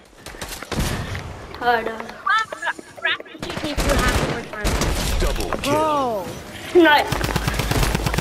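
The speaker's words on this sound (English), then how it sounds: "how did he shooting while grinding?" Gunfire in the video game Fortnite, with rapid bursts of shots crackling at the start and end, broken up by excited players talking throughout.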